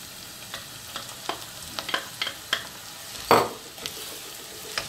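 Mushrooms, onions and peppers for vegetarian nems fry in a pan, a soft sizzle broken by repeated stirring scrapes and taps, with one louder knock near the end; nearby and without voices.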